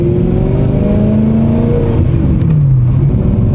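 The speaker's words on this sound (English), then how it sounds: "You guys can probably already tell from the sound of the exhaust." Tuned, supercharged 2008 BMW E90 M3 V8 revs loudly up close, its exhaust note climbing and falling in pitch across a few seconds of steady engine roar with no talking.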